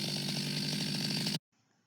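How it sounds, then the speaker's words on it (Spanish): Chainsaw cutting a felled tree into logs, loud, steady high-revving engine whine close by that cuts off abruptly, leaving a faint low background. "está ocupando la motosierra como si fuera una vara de medir esto para darle el dimensionado apropiado a las trozas"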